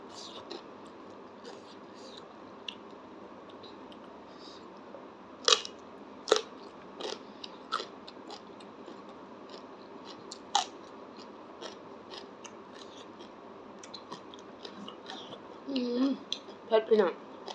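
Someone eats crunchy, spicy Lao-Thai pounded papaya salad with straw mushrooms, making scattered close crunching bites and chewing, with sparse soft talk in between.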